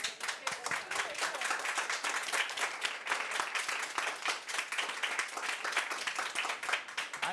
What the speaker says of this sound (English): I would ask for a round of applause for these people